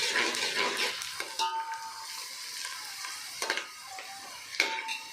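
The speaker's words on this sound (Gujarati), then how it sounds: "હજી ફેરથી હલાવશું. થોડી થોડી ડુંગળી બ્રાઉન થવા માંડી છે." Onions browning in a frying pan, with a soft sizzle broken by scraping stirs and occasional light clinks of a utensil against the pan.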